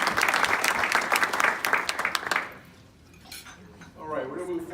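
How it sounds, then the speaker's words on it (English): Audience applause at a chamber of commerce gathering rings out briefly for about two and a half seconds, then fades into quieter room noise with faint clinks of dishes and cutlery and murmuring voices. "A little hand of applause."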